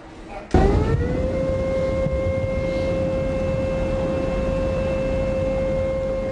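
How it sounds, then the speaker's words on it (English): A long, steady wailing civil defense warning siren, sounding for a levee breach in Illinois, holds one tone after a sudden onset, droning loudly over a noisy background for several seconds. "Those are the warning sirens, warning of a levee breach in Illinois."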